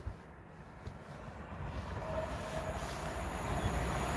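A Pendolino passenger train passes a lineside spot, its broad rumble and rushing noise swelling steadily louder as it draws near, with no voices.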